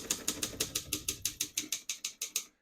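Keys struck on a 1958 Optima Elite 3 portable typewriter, about fourteen crisp evenly spaced clacks close up, each with a short metallic ring, stopping abruptly.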